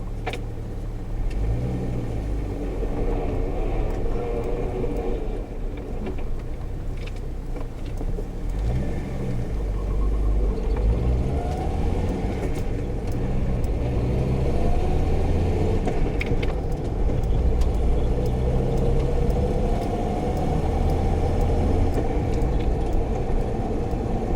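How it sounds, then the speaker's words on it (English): A steady, rough engine drone from a Jeep Grand Cherokee ZJ with a swapped AX15 five-speed, deep low diesel-like rumble throughout, loud and close, with slight rises in pitch like gentle revving. "Sounds kind of like a diesel in here."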